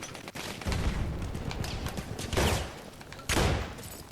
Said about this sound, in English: Damn shotgun.